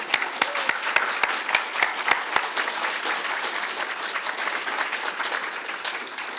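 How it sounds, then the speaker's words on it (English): An audience at an evening community gathering claps loudly, with sharp individual handclaps standing out early over a dense wash of applause that carries on evenly. "So I'm sure if we clap really loudly, she'll hear us way up in Tallinn."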